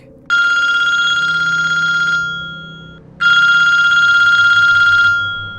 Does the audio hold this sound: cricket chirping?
no